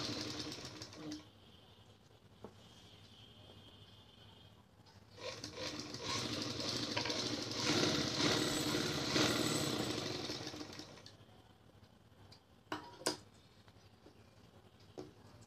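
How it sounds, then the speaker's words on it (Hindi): A sewing machine stitches a seam on a salwar, a soft mechanical whir that rises to a sustained run in the middle and then fades, with a few light clicks afterward, quiet and close. "ये हमारी सिलाई लग चुकी है।"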